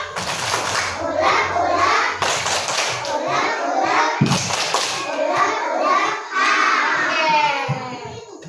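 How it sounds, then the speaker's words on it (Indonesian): Children in a first-grade classroom do the rhythmic tepuk sambal clapping game, patterned claps and taps mixed with their chanting voices, close and lively. "Yuk kita tepuk dulu ya."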